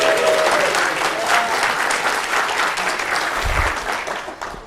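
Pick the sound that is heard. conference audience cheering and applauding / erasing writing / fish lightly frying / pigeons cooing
conference audience cheering and applauding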